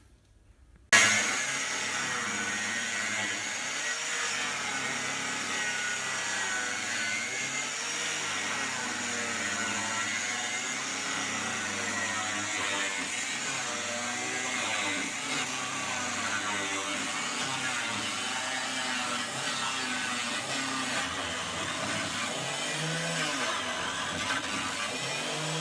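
An angle grinder cutting out the front section of a VW T25 campervan body, a harsh sustained whine starting abruptly and running steadily for over twenty seconds, close and fairly loud with no talk.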